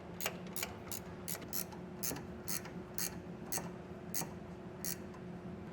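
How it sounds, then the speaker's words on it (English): A 9/16 inch ratcheting wrench clicks rapidly in short bursts while tightening nuts on Firestone Ride-Rite rear air helper springs on a 2014 Chevrolet Silverado, the quiet ticking repeating over a low steady hum. "Now we'll tighten those down with a 9/16" wrench"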